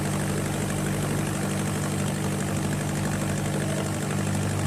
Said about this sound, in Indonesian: Ini mesin genset cadangan ya, ini cadangan ini.